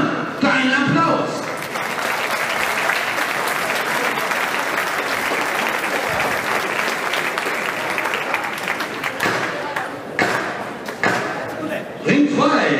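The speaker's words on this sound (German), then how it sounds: "dein Applaus!" A boxing crowd at an amateur bout in Wesel claps loudly and continuously for a fighter, dense sustained applause with a few shouts, easing briefly before swelling again.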